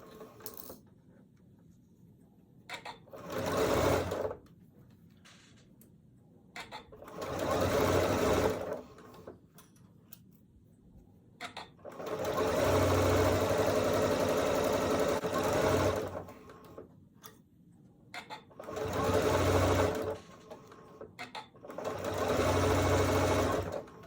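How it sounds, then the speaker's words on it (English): A sewing machine stitches small quilt pieces together for a Tula Pink butterfly quilt block, running in several loud close bursts of a few seconds each, separated by quiet pauses with light handling clicks. "So what I'm gonna do now is sew this piece to this piece"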